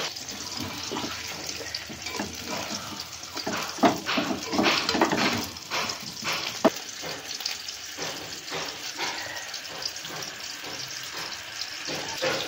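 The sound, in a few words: hot water poured into mutton curry with potatoes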